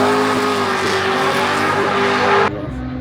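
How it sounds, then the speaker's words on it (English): A Holden VL Calais running E85 with added boost launches hard and lifts its front wheels, the engine roaring loud and close at sustained high revs before cutting off abruptly near the end. "That's off the ground. Oh, it is too. My car does wheelies."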